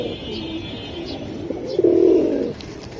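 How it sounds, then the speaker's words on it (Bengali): A military pigeon, one of a fancier's racing birds, gives a single close, loud throaty coo that swells and fades over about a second, over faint background hum. "এটা মিলিটারি মিলিটারি কবুতর"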